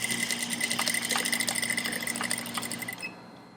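An industrial sewing machine top-stitching corset fabric, running in a fast, steady mechanical rattle with a whirring motor hum, close and loud, then stopping abruptly near the end, no voices.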